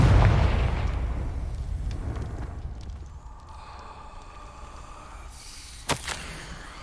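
An explosive Confringo curse blast in Hogwarts Legacy, a heavy boom that fades over several seconds into quiet ambience, followed by a short sharp crack near the end.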